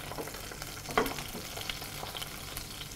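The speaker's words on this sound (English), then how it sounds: "So what I'm doing is just pressing lightly," Cod fillet frying skin-side down in a Berndes non-stick pan, a steady soft sizzle with one brief louder crackle near the start.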